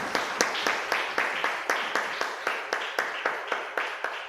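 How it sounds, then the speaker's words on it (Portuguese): A church congregation applauds in rhythmic unison, sharp claps repeating at a steady beat of roughly four per second, fairly loud and close, with no talking over them. "E aplauda Jesus por essa palavra."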